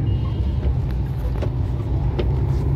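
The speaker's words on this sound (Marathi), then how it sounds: "सध्या तुम्हाला ट्रॅफिक पण दाखवतो." Road traffic in Pune on a foggy monsoon day makes a continuous, fairly loud rumble of passing cars and buses, with no voices over it.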